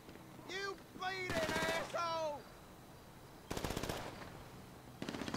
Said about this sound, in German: Ich höre Schüsse. Jetzt schießt er.